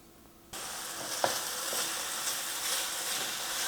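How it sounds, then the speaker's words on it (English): Lamb for a Lancashire hotpot drops into a hot pan and starts frying, a sudden, steady loud sizzle with a few soft stirring knocks, close up. "So get it in the pan, give it 2 or 3 minutes till it's got some colour on it."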